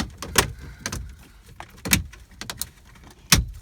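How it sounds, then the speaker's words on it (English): A plastic nylon pry tool popping off the trim ring on a GMC Sierra, several sharp cracking and snapping bursts of plastic clips releasing, close and loud, with quieter handling rustle between them. "So first we're gonna pop off the trim ring."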